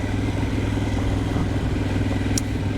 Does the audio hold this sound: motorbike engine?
yes